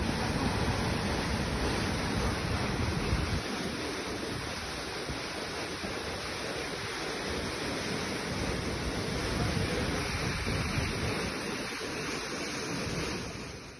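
The Cauvery River roars below the KRS dam after a water release during heavy monsoon rains, a steady, loud broadband rush of churning water that carries on unbroken with no voices.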